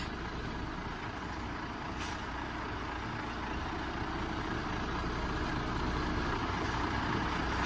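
A heavy goods vehicle's articulated lorry engine runs steadily during a coupling tug test, a constant loud diesel rumble with slight throttle rise and no speech.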